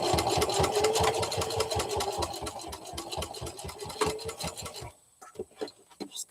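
A sewing machine runs in a fast, even burst of needle strokes while restitching a seam on a sewn chameleon project, then stops abruptly, leaving a few soft handling clicks and taps.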